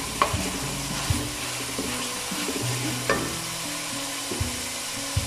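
Chicken and chickpea pulao sizzles steadily in a pan while a spoon stirs through it, with scattered scraping clicks and taps against the metal over a constant frying hiss.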